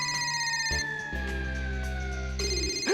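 A phone rings loudly in a TV comedy scene, a steady electronic tone with stacked harmonics that steps in pitch partway through and carries on for the whole few seconds, with no talk.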